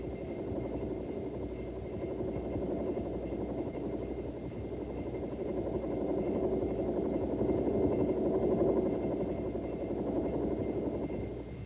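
Bell AH-1 helicopter lifting off from a hover at a stage field: a steady, loud rotor and turbine drone with a throbbing low beat, swelling slightly midway and holding with no speech.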